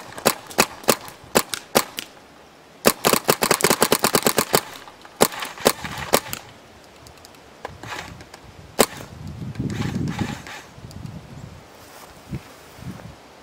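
A Valken G6R gun fires sharp, close, loud shots: a few spaced single shots, then a quick burst of rapid fire, then more scattered shots with some rustling and handling noise between.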